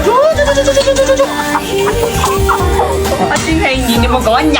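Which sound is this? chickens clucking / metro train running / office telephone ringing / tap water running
chickens clucking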